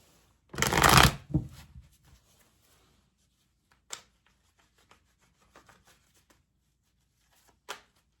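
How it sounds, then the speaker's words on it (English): A deck of tarot cards is shuffled in one loud riffling burst lasting about a second, then a shorter follow-up, with scattered single card snaps and flicks afterward in an otherwise quiet room. "Let's see what the cards can tell you."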